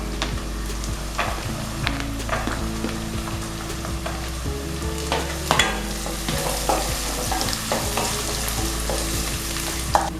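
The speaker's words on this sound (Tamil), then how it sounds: "இப்போ வெங்காயம் நல்லா வதங்கிடுச்சுங்க" Onions and green peas sauté in a pan for an eggplant gravy, giving a steady close sizzle broken by scrapes and clinks of a stirring spoon throughout.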